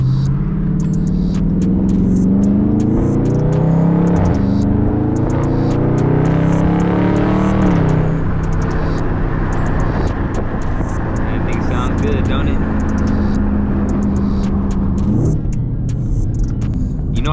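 Engine rumble from a 2020 Dodge Charger 392 Scat Pack Widebody while driving, a loud continuous low drone that rises and falls with revving, heard from inside the car.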